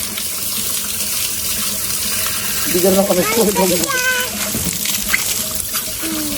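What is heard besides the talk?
cold mountain water flowing freely from a pump spout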